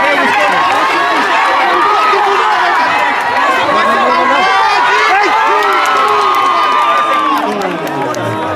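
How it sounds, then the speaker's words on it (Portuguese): A crowd of fans at an American football bowl game, Corupá Buffalos against Istepôs, shouting and cheering in a steady, dense roar that lasts throughout, with a commentator's voice over it. "A torcida se manifestando, chamando a defesa para o jogo"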